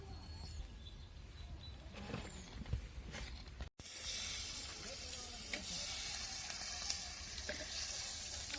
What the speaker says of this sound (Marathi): आता तव्यावरती मस्त मिरच्या तळून घ्यायच्या आपल्याला